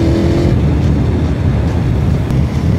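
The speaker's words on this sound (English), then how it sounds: "The V4 sound is so unique." An Aprilia Tuono V4 Factory motorcycle's V4 engine runs loud and close with a steady, rumbling drone that holds at a constant pitch throughout.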